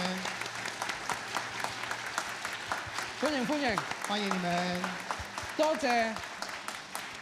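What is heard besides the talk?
audience applause welcoming new visitors at Easter church service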